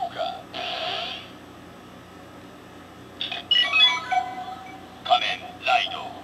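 Kamen Rider Decade DX K-Touch toy playing its electronic Kuuga final form sound effect: a synthesized chime burst, a pause, then a string of bright electronic tones and beeps at moderate volume, with no talking.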